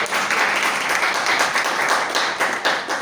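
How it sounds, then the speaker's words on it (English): A room of attendees at a Toastmasters club meeting applauds, dense continuous clapping from many hands, fairly close and steady with no voices above it. "Please have a big round of applause."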